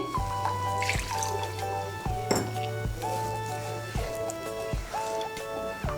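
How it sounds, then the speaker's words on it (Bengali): Hot water is poured from spice bowls into a curry pan while cooking kakrol jhal, with continuous splashing and trickling, small ceramic clinks and drips, close and steady without talk. "আমি মশলার বাটিগুলো ধুয়ে এর মধ্যে জলটা দিচ্ছি।"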